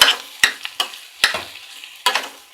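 Onion and spinach sautéing in oil in a pan for homemade Turkish börek, with sharp, repeated scraping stir strokes over a soft sizzle, close and clear.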